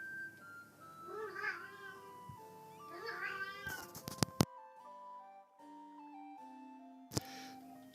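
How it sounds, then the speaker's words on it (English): A pet cat meows repeatedly in the background, drawn-out wavering cries in two or three bursts, followed by sharp clicks and a stretch of steady electronic tones from a strategy game. "my cat's in the background giving it quite a lot of noise"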